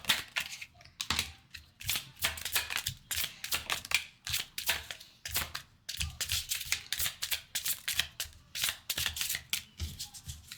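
Tarot cards are shuffled repeatedly in quick riffling bursts, crisp and close, with brief pauses between rounds and no talking.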